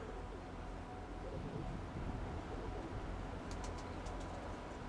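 Soft pigeon cooing in the distance over a steady wind-like rumble, with a few faint higher chirps near the end.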